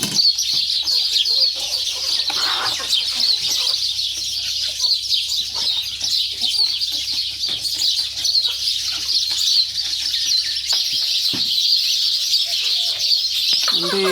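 Chickens clucking and chirping steadily in a backyard vegetable garden while pecking at bits of fallen peach, a continuous close chorus with occasional louder calls.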